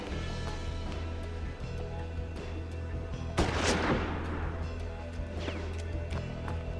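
A single close revolver shot in the turn-based western game Hard West, a sharp crack with a broad ringing decay, over a steady bed of background music.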